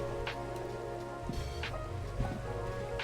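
Steady rain falls in the Minecraft video game, an even hiss of drops with a couple of faint, brief thuds, continuous and moderately loud with no talk over it.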